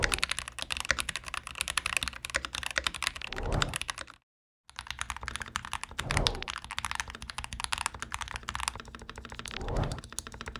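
Typing on a modded budget IO Typex mechanical keyboard, lubed and upgraded: rapid, dense keystrokes in a steady continuous stream, close and clear, broken once by a brief pause.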